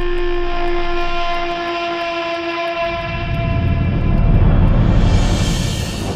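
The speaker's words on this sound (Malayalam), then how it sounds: "നീ പറഞ്ഞ സ്ഥലത്ത് ട്രെയിൻ എത്താറായി" A passenger train sounds a long, loud horn, then its rumbling roar along the rails swells and fills the scene.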